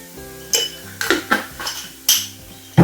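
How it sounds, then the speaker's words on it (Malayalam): Lentils being stirred in a cooking pot with turmeric, giving a few separate metallic clinks and scrapes of a spoon against the pot, close and fairly loud, with short pauses between strokes. "ഇനി നമുക്കിത് നന്നായിട്ട് ഇളക്കി കൊടുക്കാം. ഇളക്കട്ടെ."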